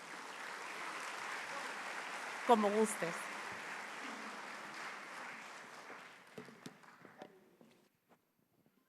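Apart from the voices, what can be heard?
audience applause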